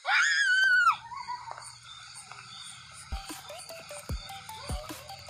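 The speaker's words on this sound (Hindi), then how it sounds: "मैं नहीं चिल्ला रहा, ये चिल्लाई जा रही है।" A character in the Mr Meat horror game lets out a loud, shrill scream lasting about a second, followed by quieter game noises and a few sharp thuds.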